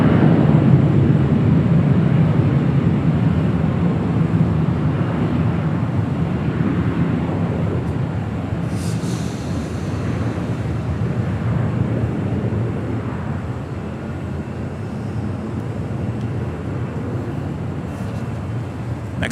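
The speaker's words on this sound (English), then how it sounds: "that Dreamliner on the south side heading back west" A Boeing 787 Dreamliner jet climbs away from LAX on the south side, a steady, broad roar that holds loud and even for the whole span, fading only slightly toward the end.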